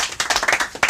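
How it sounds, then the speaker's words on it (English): A football team gives itself a round of applause, a short burst of close, uneven hand claps lasting under a second. "Give yourselves a round of applause."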